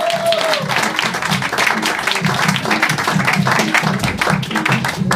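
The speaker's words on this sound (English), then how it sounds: "let's give a warm applause for our next comedian of the night" Comedy club crowd applauds as a comedian is introduced, loud dense clapping sustained throughout with scattered cheers mixed in.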